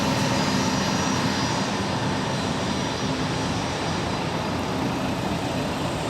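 Airplane on its takeoff roll from runway 30 at San Jose Airport, a loud, steady, broadband engine roar that holds for several seconds with no speech over it.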